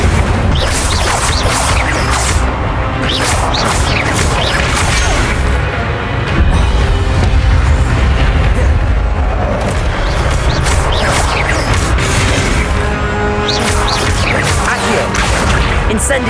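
Fire spell cast repeatedly in Hogwarts Legacy amid other spell effects, with loud continuous booms, crashes and whooshes layered over dense game action.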